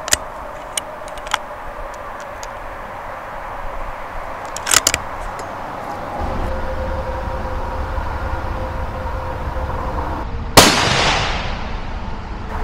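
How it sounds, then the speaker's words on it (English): A .308 rifle firing a Remington Core-Lokt 180 grain round at a 100-yard range gives one sharp, loud crack late on, after quiet clicks and handling noises, then fades into low outdoor rumble. "Second shot, one more."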